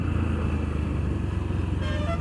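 A Yamaha FZS V4 150 cc motorcycle rides through a corner after a downshift, its engine a steady close rumble under wind noise, with a brief higher tone near the end.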